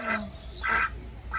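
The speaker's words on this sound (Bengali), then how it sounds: "এই হাঁসগুলো কি নাম বলো তো" Domestic ducks quacking nearby: three short, nasal calls spaced roughly half a second apart, fairly faint against a quiet background.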